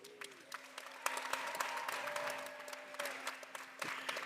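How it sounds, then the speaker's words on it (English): Steady applause from the audience at a University of Maryland 2025 graduation ceremony, many hands clapping continuously with a few sharper claps standing out, moderately distant. "let's give all of those connections a round of applause"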